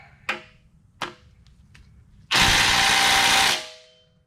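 Impact wrench with a T55 bit breaking loose a cylinder head bolt on a Mazda ND Miata Skyactiv engine during teardown: two sharp, close knocks and faint ticks, then a loud, dense burst of rattling hammering lasting about a second before stopping.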